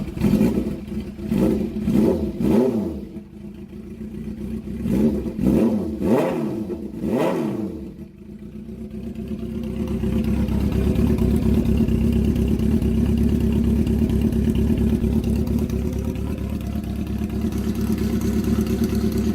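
Motorcycle with a loud, short cut-off custom exhaust revving hard in a series of sharp blips, then settling into a steady, deep, rumbling idle close by.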